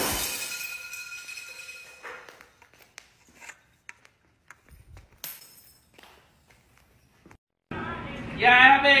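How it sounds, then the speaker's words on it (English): Broken glass shatters with a bright crash at the start, then scattered clinks and tinkles follow during a night-shift cleanup, before a voice speaks near the end. "They got me cleaning up all this broken glass."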